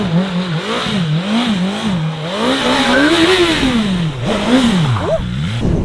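A BMW S1000RR sport motorcycle engine revs up and down repeatedly, its pitch rising and falling in smooth sweeps, loud and close, with no talking.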